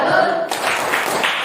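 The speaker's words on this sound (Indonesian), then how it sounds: "Kita beri tepuk aplaus, tepuk salut dulu untuk kelompok 1 dan kelompok 2." A classroom group claps together to salute fellow student groups during a lesson, a dense burst of hand claps close and fairly loud that runs briefly with a voice at the start.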